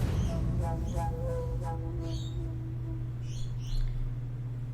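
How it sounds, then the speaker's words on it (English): Birds chirp and call in the early morning background, scattered high tweets under a steady low hum, moderately faint and distant throughout. "So you probably hear a lot of birds in the background because it's early in the morning."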